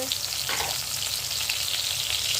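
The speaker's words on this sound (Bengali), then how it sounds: "এবার এই তেলে বেগুনগুলো দিয়ে দিচ্ছি।" Eggplant pieces fry in hot oil with a dense, continuous crackling sizzle, steady and close, with no voices.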